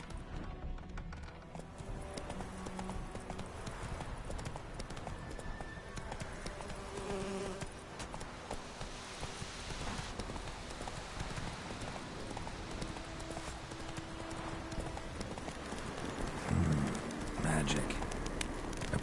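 Roach, a horse in The Witcher 3, trots with steady clip-clopping hooves under a dense, continuous game soundscape with ambient birdsong and insect hum at an even level.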